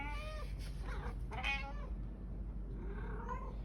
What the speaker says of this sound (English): But, like, look, it's my cat.